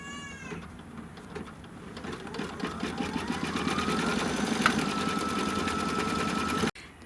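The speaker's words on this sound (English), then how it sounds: "then stitch the tack down" A sewing machine stitches a tack-down on a quilt, a close, rapid even whirring with a rhythmic needle chatter that speeds up and runs steadily before stopping abruptly, with a brief rising squeal at the start.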